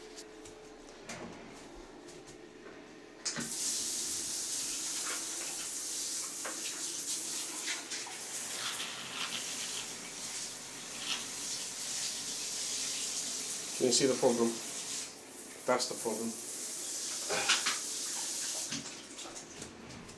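Water runs through a leaking shower seal where only a very thin layer of silicone lines the edges. A steady hiss starts abruptly and continues for about fifteen seconds while a person talks over it, then it stops.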